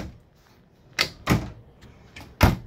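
Cabinet doors and a drawer in a 2011 Four Winds Serrano 31V motorhome being handled, with several sharp wooden knocks and thumps close by and no talking.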